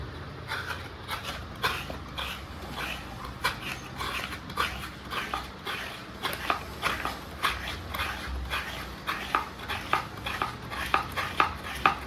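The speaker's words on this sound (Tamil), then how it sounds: "தேங்காயை உடைச்சாச்சு, திருவிடலாம் தேங்காயை." Broken coconut being grated on a scraper, a rhythmic run of rasping strokes repeating steadily and close up, with faint background noise.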